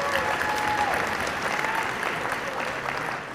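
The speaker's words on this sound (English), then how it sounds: "Give Senator Graham another round of applause." At a political rally, an audience gives Senator Lindsey Graham a round of applause. Dense, continuous clapping fills the room, with crowd noise and a brief whistle-like tone near the start, fading slightly at the end.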